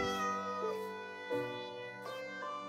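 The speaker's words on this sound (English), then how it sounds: "let's get the cat first." Cartoonish video game cat meows several times in clear, tonal, harmonic cries, close and fairly loud, each rising then falling, with short gaps between them and no talking.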